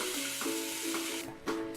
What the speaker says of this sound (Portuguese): A massa de farinha de milho de trigo bem temperada vai para o fogo